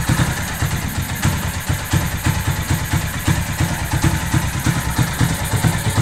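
A motorcycle engine rigged as a generator runs at a steady idle with a loud exhaust, a rapid rhythmic chugging and clatter heard up close throughout.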